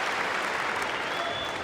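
Tennis crowd at the US Open quarterfinal applauding Monica Seles, a soft, distant wash of steady clapping from the stands that holds evenly throughout.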